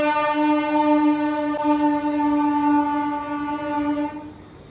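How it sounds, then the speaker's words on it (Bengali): The Kulik Express train sounds a long, loud, steady horn blast at a station, held for about four seconds before cutting off, with no talk. "মানে ট্রেনে এত হরেনের আওয়াজ"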